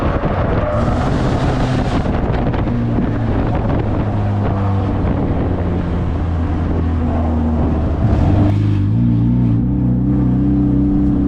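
Stockcar racing on the final lap at Cowdenbeath Racewall, a loud close engine droning steadily with shifting harmonic tones and heavy wind buffeting, the pitch dropping and a new steady tone settling in near the end.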